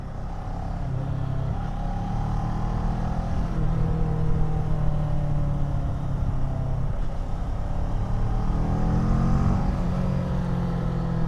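Kawasaki ER6N motorcycle with its stock exhaust pipe accelerating, a steady close engine drone with rising revs and audible air intake roar, holding fairly loud throughout with slight swells toward the end.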